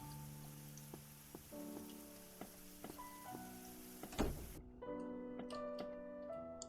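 Rain falls steadily in a video game scene, a soft continuous patter with scattered ticking drops, mixed with faint sustained tones of background music and no talk.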